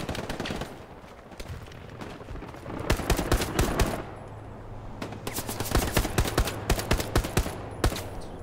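Rifle and automatic gunfire in the World War II shooter Hell Let Loose, loud sharp bursts of rapid shots clustering in volleys, with brief lulls between, no talking.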